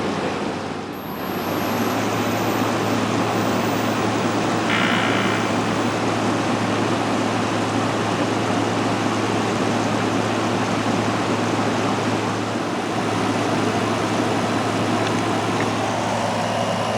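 An air conditioner compressor runs steadily in a workshop, a continuous broadband whir with a low mechanical hum that holds at a constant level throughout, with no talk.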